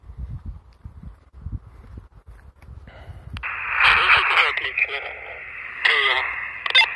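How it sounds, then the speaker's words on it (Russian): A T 668 walkie-talkie crackles with a short radio transmission carrying slight interference, after someone speaks nearby; the tinny voice bursts in and out over a faint hiss. "Вот видите, небольшие все-таки помехи есть, но несмотря на это, слышимость хорошая"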